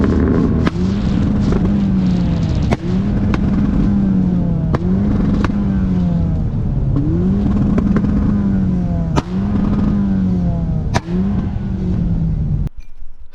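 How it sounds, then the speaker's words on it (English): A carbureted Volvo engine holds a loud, droning rev while sharp backfire cracks pop at irregular intervals, about seven distinct bangs over the steady engine note, close to the microphone. "I got some freaking insane flames from my car"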